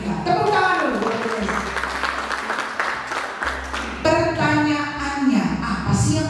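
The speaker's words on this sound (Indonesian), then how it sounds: "Tepuk tangan dulu" Audience applause at a university coaching clinic talk, steady clapping continuing throughout beneath a voice speaking over it.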